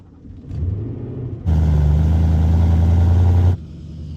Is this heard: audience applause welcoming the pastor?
no